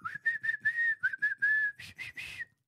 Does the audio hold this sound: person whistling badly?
yes